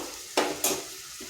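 Ground turmeric, coriander, cumin and chili powder being stirred and fried in a pan, two short sizzling scrapes over a faint steady hiss.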